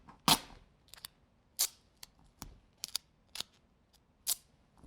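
Pieces of duct tape are ripped by hand, giving sharp, quick tearing snaps, about eight separate bursts spaced irregularly over a quiet background, close and fairly loud.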